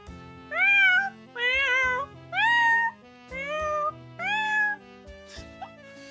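A person imitates a cat, giving five drawn-out, rising-and-falling meows in a steady sequence with short pauses, loud and close, ending with a small soft squeak.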